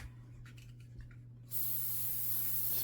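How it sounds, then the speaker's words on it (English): Aerosol gun cleaner and lubricant sprayed onto a Glock pistol frame: a few faint handling clicks, then a sudden, steady, close-up hiss of spray that continues to the end. "spray the entire frame"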